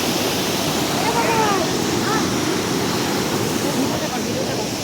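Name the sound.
rushing cold water in Sikkim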